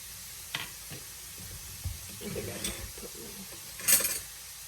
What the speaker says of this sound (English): So I'm going to stir it really good so I get all the stuff at the bottom.